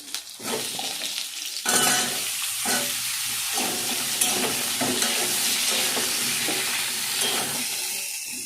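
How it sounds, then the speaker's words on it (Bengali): Loud, steady sizzling of potatoes frying in hot oil in a kadai, with occasional stirring scrapes and bubbling throughout. "এই তেলের মধ্যেই আমি আলুগুলো ভেজে নেব।"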